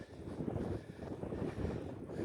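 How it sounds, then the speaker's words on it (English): Gusty headwind buffeting a microphone while cycling a trail in New Zealand's Alps 2 Ocean route, a soft low rumbling roar that swells and eases in brief gusts, fairly faint, with no talk. "That headwind has not let up."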